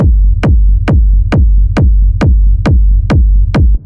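A steady four-on-the-floor kick drum sample from an Ableton sampler rack thumps loud and close, about nine deep punchy hits with booming low tails and no other sounds.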